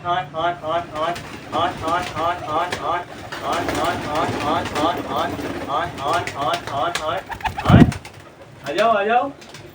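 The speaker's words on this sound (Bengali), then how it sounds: "আগে সবকটা পায়রাকে ছাড়তে হবে নাহলে সবকটা উড়বে আমাদের ডিস্টার্ব হবে" Rooftop pigeons coo in a steady, repeated rhythm as the flock is let out of its coop, with a brief loud thump near the end and people talking over the birds.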